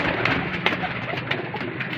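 Soft pigeon cooing and bird calls fill a busy, noisy background, with a few brief louder accents throughout.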